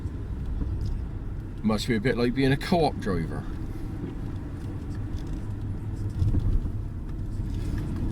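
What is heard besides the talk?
car driving up a narrow hillside road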